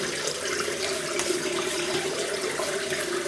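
Water from a running tap splashes steadily at close range as hands wet a face before shaving, a continuous rushing wash with no talking.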